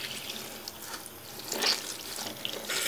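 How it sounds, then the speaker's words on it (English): Running tap water splashes over a Beauty Blender makeup sponge as it is rinsed and squeezed in a sink. The rushing, spattering flow is close and swells toward the end, with no speech. "So then I'll just rinse the water out by squeezing it to get the bubbles out too."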